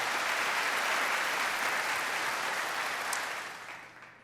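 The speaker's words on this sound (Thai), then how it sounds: "ปรบมือ ให้ดังๆ ไปเลยนะครับ" Steady applause from a large audience at a seminar, dense and sustained, fading slightly toward the end.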